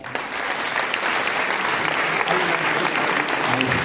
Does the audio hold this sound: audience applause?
yes